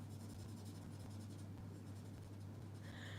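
Marker colouring on a stamped card image for a rain-themed card: faint, steady scratchy strokes of the marker tip against paper over a low hum, with no talk.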